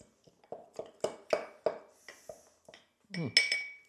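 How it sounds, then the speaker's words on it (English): Thyme leaves muddled gently in a glass, giving a series of soft, short clinks and taps of muddler against glass, spaced irregularly and close up, ending in a slightly louder scraping knock. "Now what I want to do is gently muddle."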